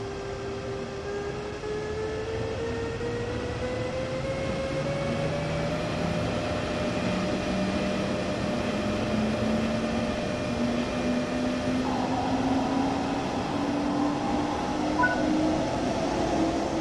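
A BR 146.2 electric locomotive in Train Sim World 3, on regional service around Dresden, pulling away with a steady hum and traction motor tones rising gradually in pitch as it gains speed, continuous and unaccompanied by talk.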